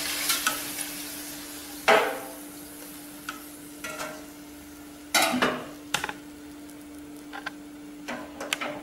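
Poori fries in hot oil, giving a soft steady sizzle under sharp metallic scrapes and clinks of a ladle against the pan, with a faint steady hum behind.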